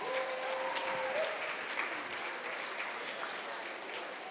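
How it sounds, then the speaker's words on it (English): A crowd at an outdoor Day of Truth and Reconciliation gathering on Secwepemc territory applauds steadily for several seconds, the clapping fairly distant and even, with a faint tone sounding near the start. "How about a round of applause for some tremendous people doing tremendous work"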